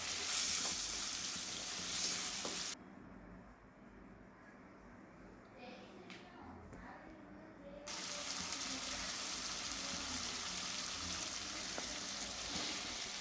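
Chopped tomatoes go into a pan of frying onion for sambar and sizzle steadily and loudly throughout. The sizzle drops quieter through the middle stretch, then returns to full strength.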